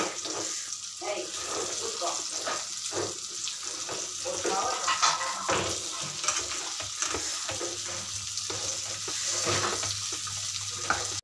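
Egg pepper fry sizzling steadily in a pan while being stirred and mixed, a continuous crackling hiss with scraping strokes, close and fairly loud throughout.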